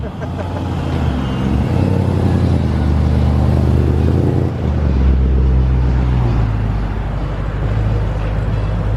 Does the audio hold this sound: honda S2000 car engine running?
yes